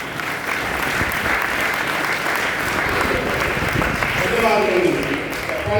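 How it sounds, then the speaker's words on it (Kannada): An audience claps together at a closing ceremony of a religious training camp, a dense, steady round of applause lasting several seconds, close and fairly loud, with no one speaking over it. "ಕೈಗಳನ್ನು ಎತ್ತಿ ಚಪ್ಪಾಳೆ ತರಬೇಕು."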